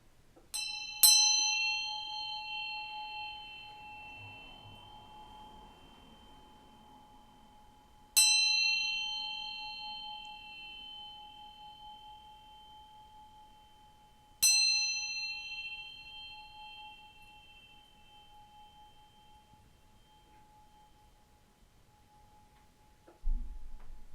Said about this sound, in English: I'm going to ring this bell to bring some good vibes and welcome in spirits.